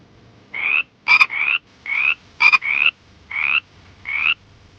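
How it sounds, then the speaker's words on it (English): Frog croaking in seven short, loud bursts at a steady rhythm, a few of them doubled, with no talking. "What is this? Frog. Frog."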